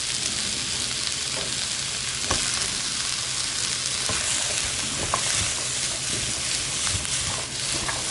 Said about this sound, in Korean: 양파까지 넣고 볶아주시면 돼요